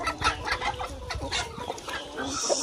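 Chickens and roosters on a farm clucking in a steady, close flock chatter, with soft overlapping calls and a few brighter squawks throughout.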